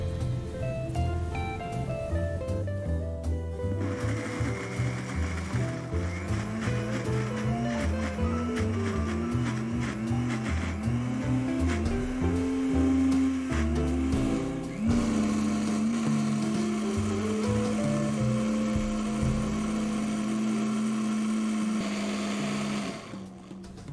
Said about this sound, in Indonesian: Setelah itu kita masukkan ke blendernya.